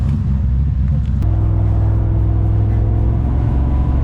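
A Holden HQ wagon with an LS V8 swap rumbles loudly and steadily at a drag-and-drive event, its deep engine drone holding a strong low throb for the whole stretch.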